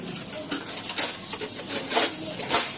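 Grated carrots for halwa are stirred in a large pot, with a spoon scraping and clinking against the metal in uneven strokes over a steady background hiss.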